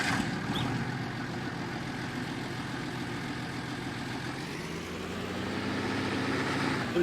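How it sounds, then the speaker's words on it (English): Ursus 1234 tractor engine in Farming Simulator 19 running at a steady low idle, a continuous deep rumble with a slight rise in pitch toward the end, heard alone without talk. "Completely different engine sound on this one also."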